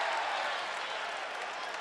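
A basketball arena crowd at a 2015 Utah State at New Mexico college game roars steadily at a reversed call, a wide continuous wash of cheering and clapping with no distinct breaks.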